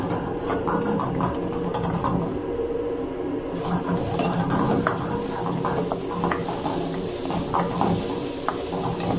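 Spoon stirring Singaporean rice in a pan, a steady run of scraping and clinking with faint sizzle underneath, close and continuous.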